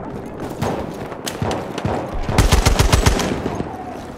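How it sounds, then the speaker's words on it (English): An enemy machine gun fires during a Team Deathmatch on the Nivelle Nights map in Battlefield 1, scattered loud shots building into a rapid, close burst of automatic fire, with brief in-game voice callouts mixed in. "Enemy machine gun, sighted."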